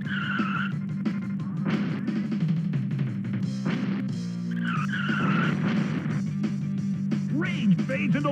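A race car spins out with a long, loud tire squeal and skid in the SNES racing game Rock N' Roll Racing, layered over constant engine whine and game music.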